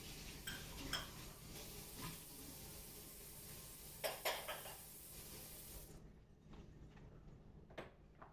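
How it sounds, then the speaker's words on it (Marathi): Chana dal and peanuts being stirred in a pot for a traditional Marathi colocasia-leaf curry, with scraping spoon-on-metal sounds and light clinks over a faint background hum, fairly quiet and close. "आता पुन्हा मी याला एक सुंदर असं ढवळून घेत आहे"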